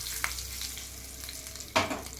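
Curry leaves hit hot tempering oil, with a low ongoing sizzle, a small crackle early on and a sudden loud spitting burst near the end.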